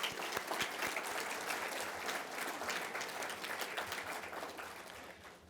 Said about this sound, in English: I'd like to give another round of applause to Andy for his leadership